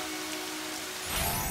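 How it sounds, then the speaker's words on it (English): Rain falls steadily in a cartoon scene as a soft, even hiss of drops on surfaces, swelling slightly toward the end. "It's raining!"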